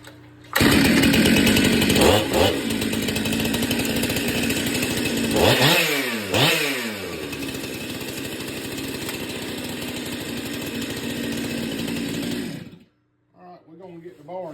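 A Stihl MS362C chainsaw starts and runs loud and steady for about twelve seconds, with two quick throttle revs midway, then cuts off abruptly. A short burst of faint talk follows.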